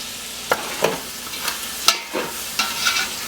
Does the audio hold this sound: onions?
yes